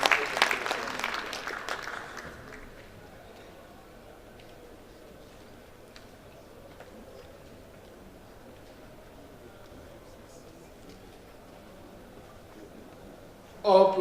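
An audience at a builders' conference opening ceremony claps for a guest speaker, a moderately loud burst of applause for about two seconds that quickly dies away into quiet room tone, with a voice briefly starting at the very end.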